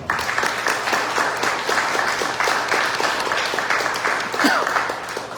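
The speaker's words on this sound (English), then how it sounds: "So let's give it a quick round of applause." Steady applause from a forum audience, dense and continuous clapping filling the room for several seconds with a brief voice or cheer rising near the end.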